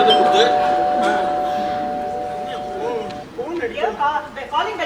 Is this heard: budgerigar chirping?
no